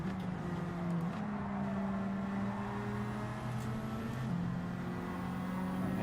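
A Bugatti Veyron race car engine in the Gran Turismo 7 racing game holds a steady, droning hum with shifting pitch, a sustained mid-level whine that runs the whole stretch with no talk.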